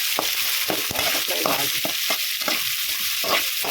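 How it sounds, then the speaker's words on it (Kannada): Onions and other ingredients for uppittu frying in a hot pan, a dense close sizzle broken by repeated scraping strokes of a stirring spoon, with no one speaking. "ಸ್ವಲ್ಪ ಫ್ರೈ ಮಾಡಿ ಸಾಕು ಚೆನ್ನಾಗಾಗುತ್ತೆ"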